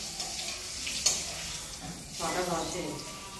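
Sliced potato, pointed gourd, flat beans and sweet pumpkin fry in oil for a Kali Puja offering, a steady low sizzle with a stirring scrape and a brief clink, while a few voices talk quietly nearby.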